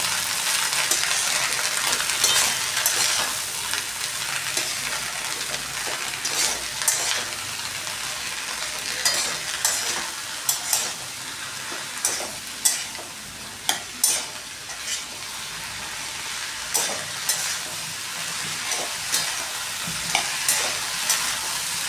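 Food fries gently over a low flame while a spoon stirs turmeric and salt through it, giving a continuous soft sizzle broken by scraping strokes and light clinks against the pan.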